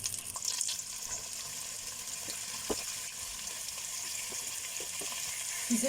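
Oxtail pieces dropped into hot fat in a pot, giving a steady, even frying hiss with a few soft clinks and pops, moderately quiet and without speech.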